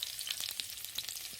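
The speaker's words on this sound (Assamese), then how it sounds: "এতিয়া ইয়াত পিঁয়াজ দি অকণমান ৰংচোৱা হোৱালৈকে ভাজি থাকিম" Sliced onions frying in a pan, a quiet steady crackle and sizzle with small popping bursts, no voices.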